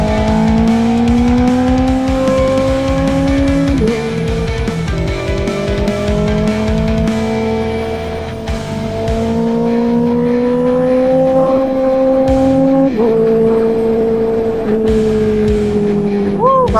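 A motorcycle engine, running on a worn front tire, revs loud and steady close by, its pitch climbing through each gear with brief dips at the shifts, while a rider talks over it.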